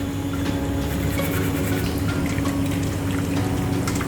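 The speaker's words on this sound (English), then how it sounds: "Rinse off my hands. Leave the tap water running." Tap water running steadily while hands are rinsed, a constant close splashing hiss with no break or speech.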